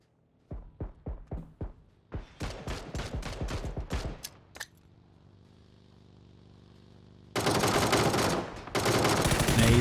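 Automatic gunfire in a PUBG pro scrim, with short rapid bursts of shots followed by a longer sustained volley, then a lull and a loud harsh blast near the end.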